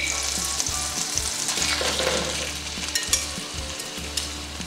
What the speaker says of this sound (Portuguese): Vou reservar essa parte aqui e vou fritar o restante.